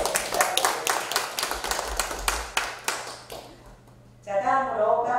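A small audience at an art exhibition opening claps in a short burst of distinct, fairly close handclaps that thin out and stop. After a brief pause a voice begins speaking.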